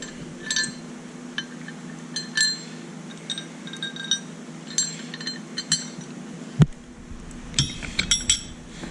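Metal bolts are pushed through holes during a 2011 Ford F450 lift install, giving scattered light clinks and taps in uneven bursts, with one sharper knock near the end, at close range in a quiet shop.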